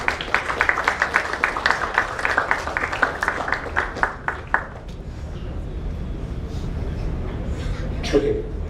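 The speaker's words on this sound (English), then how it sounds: "Can you please have a round of applause for SFL League 2?" A trophy ceremony crowd gives a round of applause for a football league, steady dense clapping for about four and a half seconds that then fades into room murmur and scattered voices.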